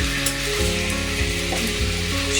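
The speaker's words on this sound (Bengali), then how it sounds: "এরকম করে লাল লাল করে সব মুরগিগুলো আমি একে একে করে ভেজে নেব।" Poultry chicken pieces browning in oil for a roast sizzle loudly and steadily at close range, a dense hiss over a faint low tonal hum.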